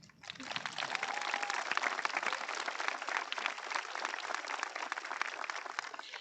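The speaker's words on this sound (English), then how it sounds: "Let us celebrate the time and efforts of these hardworking students with one more round of applause." Sustained applause from a large audience at a school district graduation ceremony, a dense, steady wash of clapping that starts abruptly and holds at even strength throughout.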